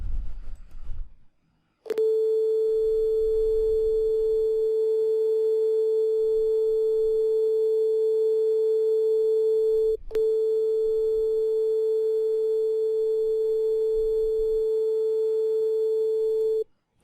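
A steady electronic tone from two loudspeakers in a wave interference demonstration, pure and loud with faint harmonics, starting abruptly after a brief pause and holding unbroken except for one tiny dropout midway.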